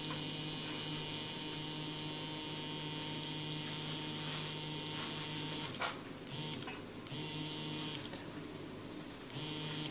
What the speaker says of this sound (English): There you see the vibrator motor, and we're gonna run it to 25 grains here.